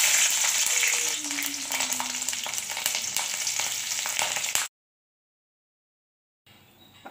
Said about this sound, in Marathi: आता आपण मिरच्या तळू